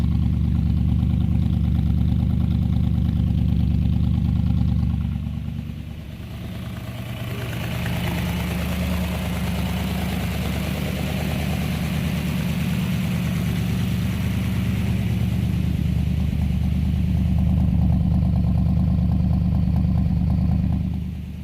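Buick 350 V8 idling steadily after a pushrod change, a low, lumpy, tractor-like rumble that dips briefly and then settles back into a constant idle, heard close with no talk.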